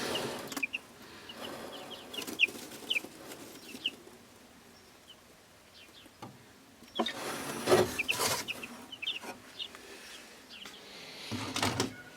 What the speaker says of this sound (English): So I've only got 4 chickens